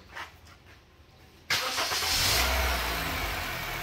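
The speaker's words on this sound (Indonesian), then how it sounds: "Terdengar untuk mesinnya suara juga halus. Tidak ada bunyi-bunyi yang aneh." A used car's engine cranks and starts after a quiet moment, then settles into a smooth, steady idle close by in a car showroom.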